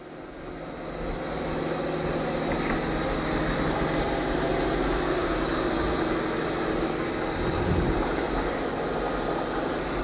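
A Yeedi M14 robot vacuum set to vacuum and mop runs across a room floor, giving a steady, even motor whir and hum that holds at constant loudness throughout, with no talking.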